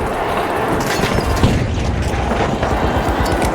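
A frag grenade explodes in the online shooter game The Finals, a loud, dense, sustained boom and rumble that fills the whole moment with no pause.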